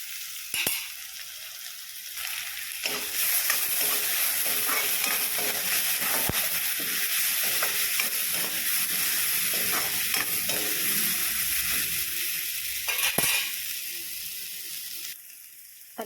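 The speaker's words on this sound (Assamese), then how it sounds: "আদা নহৰুখিনি ভাজ হৈ গৈছে।" Ginger, garlic and green chili paste sizzles in hot oil in a pan with onions, a steady loud frying hiss punctuated by a few sharp clinks and stirring scrapes.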